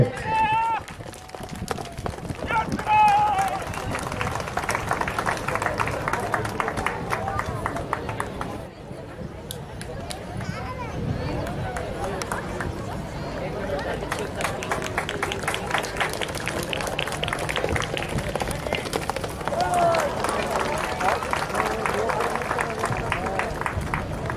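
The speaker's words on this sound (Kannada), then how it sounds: "ಬರೀ ನಿಮ್ಮ ಜೋರ ಚಪ್ಪಾಳೆ." Crowd at a police passing out parade claps steadily while horses are ridden past, a continuous applause texture with hoofbeat-like rhythm and an announcer's voice over a loudspeaker throughout.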